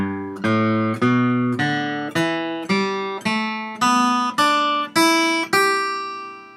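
Guitar picks a pentatonic scale upward note by note, ten evenly spaced plucked notes each ringing briefly before the next, the last one sustaining and fading, close and clean with no voices.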